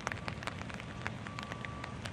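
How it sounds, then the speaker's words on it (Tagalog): Light rain pattering on a surface, scattered drops tapping irregularly over a soft steady hiss, fairly quiet and with no voices. "Umuulan, buti ngayon paambon-ambon na lang"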